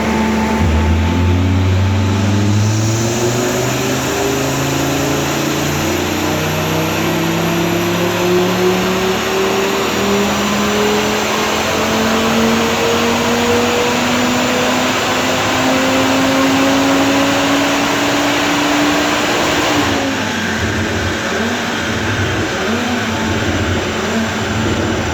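A stage 2 tuned Audi RS3 roars on a dyno, its engine pulling up through the revs in one long, loud sweep before the throttle closes and it drops back.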